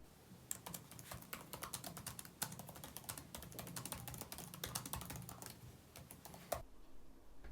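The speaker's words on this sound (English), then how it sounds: "Let me sneak in a shot of a future me typing on it." Rapid, steady typing on a Tuxedo InfinityBook Pro 14 Gen 6 laptop keyboard, a dense stream of light key clicks close by, ending abruptly in near silence.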